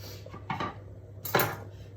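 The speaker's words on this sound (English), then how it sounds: "we're going to chop our peppers into nice little 1 centimetre" A kitchen knife chops peppers into small centimetre cubes on a board, giving a couple of sharp close taps over a quiet background hum.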